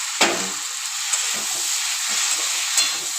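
Crab masala sizzles steadily in a pan, a bright hissing fry broken by a few soft scraping stirs, close and fairly loud, with no voices.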